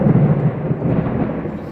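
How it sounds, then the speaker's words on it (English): Loud, close thunder rumbling steadily with heavy low-pitched energy and no distinct cracks, continuous for the whole short stretch. "That's going to be loud thunder."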